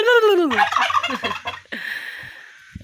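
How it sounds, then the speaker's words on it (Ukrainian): A farmyard turkey gobbles loudly and close, a rapid rattling call with a rising cry at the start, then a fainter hiss-like trailing sound as it puffs up. "Я балдею від цього індика"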